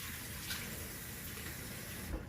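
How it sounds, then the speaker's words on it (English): Cold tap water runs steadily over hands being washed, a constant close splashing hiss with a small burst of splatter near the end and no voices. "just wash your hands with cold water"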